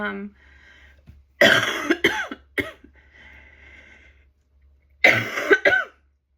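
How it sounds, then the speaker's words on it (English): Two loud bursts of coughing, with a quieter stretch of muffled throat noise between them, close to the listener. "cough is terrible."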